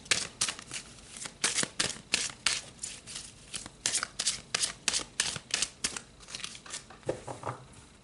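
Tarot cards being shuffled by hand, a steady run of crisp riffling flutters and soft slaps repeating about every half second, close and fairly quiet with no talking.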